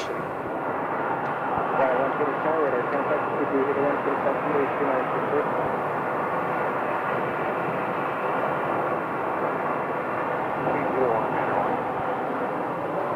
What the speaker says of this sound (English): We have a SkyWest CRJ on an approach